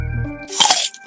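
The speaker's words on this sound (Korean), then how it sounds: "음식을 씹는 소리가 들리나요?" A single short crunch of food being bitten and chewed, close and fairly loud, with no talking around it.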